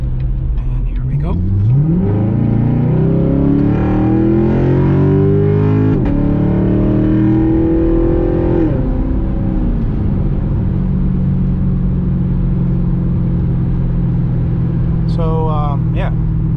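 A Chevrolet C7 Corvette Stingray Z51 accelerates hard from low speed, its engine note rising through gears for several seconds before easing off, loud and close with a brief voice near the end.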